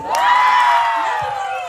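Crowd cheering and whooping at a nighttime competition results announcement, a loud burst of shouting voices that swells and then slowly tapers over under two seconds.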